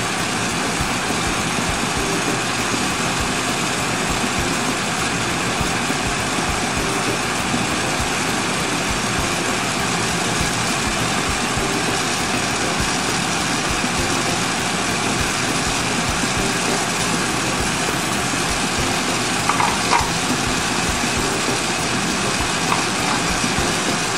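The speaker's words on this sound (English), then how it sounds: "I need a little more heat to make this spread out easy." Two glassblowing torches burn together with a steady, even roar that fills the whole stretch without pause or voices, holding at a constant loudness.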